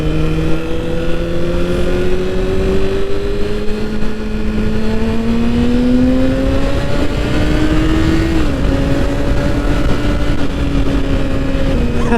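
A Kawasaki ZX6R motorcycle engine revs while riding, its loud whine climbing steadily in pitch, dipping briefly at a shift, then holding high under constant wind noise.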